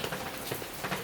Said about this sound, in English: You can see the rain drift off the street lights.